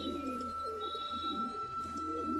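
Pigeons cooing softly nearby, with low, rolling coos repeating over a faint steady background hum and no voices.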